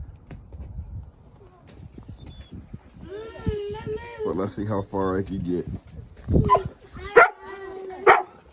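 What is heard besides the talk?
dog crying and barking in playpen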